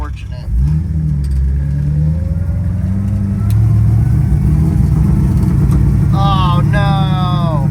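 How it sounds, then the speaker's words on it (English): A drag-and-drive street car's engine idles loud and close, then revs higher with a rough, uneven note from a lingering misfire. A voice briefly cuts in near the end over the running engine. "Don't know if we got that misfire completely fixed."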